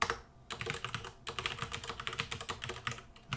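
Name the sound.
typing C# code on a computer keyboard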